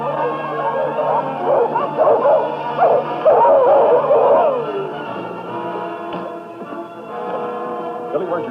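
Sled dogs, huskies, bark and yip in an excited cluster, near and fairly loud, tapering off into quieter whines and scattered yelps over a low steady hum.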